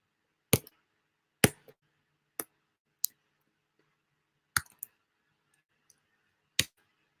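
Sharp, separate clicks from a broken computer keyboard, about seven keystrokes spaced irregularly across several seconds, close and fairly quiet, with no talking.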